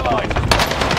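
Rapid automatic gunfire in the video game Warzone, a fast burst of shots over about a second, loud and close, with a voice speaking under it.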